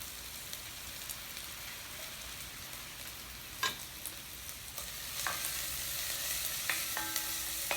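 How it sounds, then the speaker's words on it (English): Onions and curly mustard greens sizzle and fry in hot oil in a pan, a steady close crackling hiss with small pops and occasional clinks of a utensil stirring. "Now, do you hear that sizzling?"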